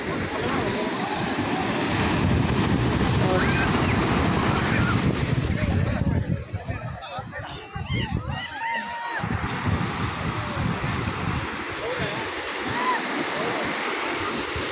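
Loud, continuous roar of surf at Panambur Beach, Mangalore, with crashing waves throughout, briefly easing midway before building again, with a voice talking over it at times.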